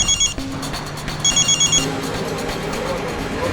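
A telephone rings in repeated short bursts inside a police station office, loud and close, with background room noise between rings.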